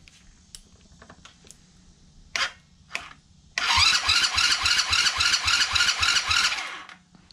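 An electric starter cranks the engine of a modified super pocket bike, preceded by a few scattered clicks and taps, then a loud, close, rapid rhythmic whirring chug that lasts about three seconds and stops without the engine catching.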